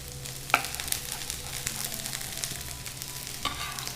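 Coarsely chopped garlic sautés in a pan for Italian antipasti, a soft, steady sizzle with a couple of sharp utensil clinks against the pan, no voices.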